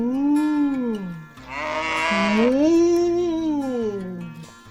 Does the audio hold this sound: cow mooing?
yes